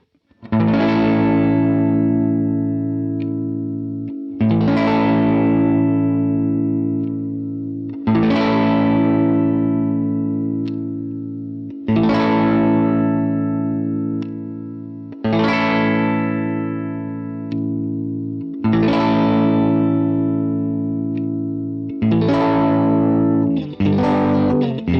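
An electric guitar plays with its neck, middle and bridge pickups all switched on, through a distorted effects chain. About seven strummed chords ring out one after another every few seconds, each loud and sustained before it slowly fades, with a quick flurry at the very end.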